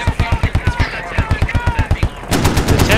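A rapid machine gun burst in a military combat video game, with rhythmic close loud shots, then a noisier wash of gunfire and explosions at the end.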